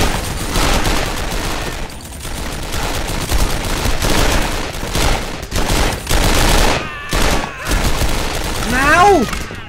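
Dense, loud gunfire in a Dien Bien Phu war video game: rapid overlapping bursts and volleys of shots with booms, continuous throughout and ending in a rising whistle-like tone, with voices mixed underneath.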